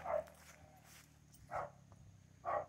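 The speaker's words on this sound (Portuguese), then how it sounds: "Tem um cachorrinho aqui." A small dog at a rural farmhouse gives three separate barks spaced about a second apart, moderately close, over a quiet outdoor background.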